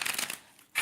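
A deck of tarot cards being shuffled up close, a quick riffling flutter of rapid card flicks that dies away and then starts again briefly.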